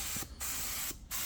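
A paint spray gun hisses in steady bursts as paint goes onto a 460 engine for a Ford F250. Two brief pauses break the close, faint spray.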